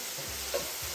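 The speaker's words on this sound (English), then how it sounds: "Trying to let these potatoes take longer. So I'm gonna let them fry up." Potatoes frying in a pan on a home stove, a steady low sizzle with faint stirring and scraping sounds, heard alone without talk.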